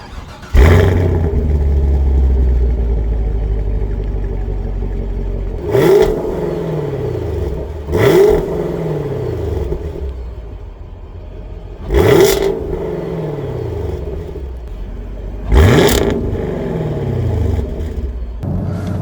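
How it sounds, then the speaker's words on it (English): A 2021 Chevrolet Camaro LT1 with a 6.2-liter V8 and dual-mode performance exhaust rumbles at idle, then is revved in five sharp, loud blips, each dropping back to a deep burble. "Here's what it sounds like with that dual mode performance exhaust."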